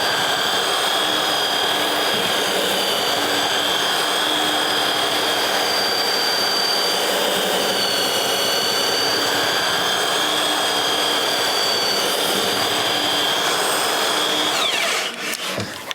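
A belt sander runs on wood during ladder building, a loud continuous whining roar held steady for the whole stretch with a brief dip at the very end.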